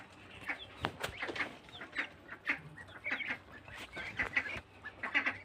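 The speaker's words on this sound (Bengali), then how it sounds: "হাঁসগুলো খেয়ে ফেলতেছে এসে।" Ducks quack in a busy, overlapping chorus, with some hen-like clucks mixed in, as farm ducks crowd in to eat feed; the calls are close and steady, with no talk.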